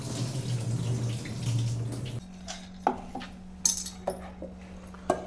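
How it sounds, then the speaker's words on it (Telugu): Water drained off urad dal that soaked overnight for vadas, a steady running pour for about two seconds, then drips and sharp clinks of a vessel against metal, close by and without talking. "ఆ మినపప్పు దాంట్లో వాటర్ అన్నీ తీసేస్తాను."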